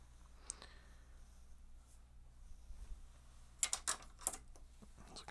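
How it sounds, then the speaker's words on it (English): The clicky drag on the main gear of a 2021 Daiwa Zillion SV TW baitcasting bass reel gives a few short, faint clicks close by against a quiet background. "Let's take a look at the Clicky Drag on the main gear."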